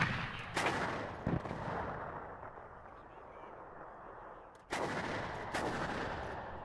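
Gunfire in the video game WARNO crackles in sharp bursts over a rumbling battle din, with a few distinct loud shots, and someone talks over it.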